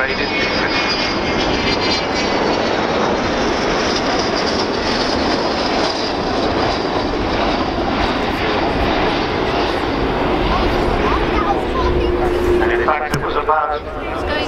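The Avro Vulcan XH558 bomber flies at an air show at RNAS Yeovilton, its engines giving a loud, continuous roar that fills the whole stretch, with a commentator's voice running beneath it.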